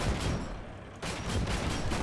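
Gunfire from the gun of an SDKFZ 222 German recon vehicle in Heroes and Generals, during street fighting: a dense, loud burst of shots filling the clip, with a brief lull near the middle before firing resumes.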